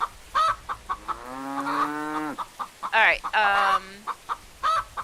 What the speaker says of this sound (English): I need to feed our chickens, because that's what they're actually saying to me right now